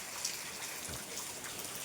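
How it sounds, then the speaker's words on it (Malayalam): Light rain falls in a steady, soft patter on surfaces, a faint continuous wash with no other sounds in the brief stretch. "ഇപ്പോൾ ചെറുതായിട്ട് മഴ കുറഞ്ഞിട്ടുണ്ട്."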